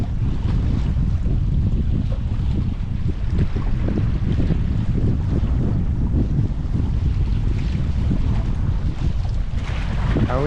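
Strong coastal wind at Half Moon Bay, California, roars continuously into the microphone during shore fishing, a loud, unbroken buffeting rush with a low rumble and no pauses.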